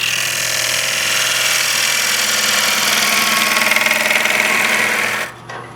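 A bowl gouge cuts very hard wood spinning on a lathe, a loud continuous grinding roar with a steady low motor hum beneath, cutting off abruptly near the end to leave only the motor.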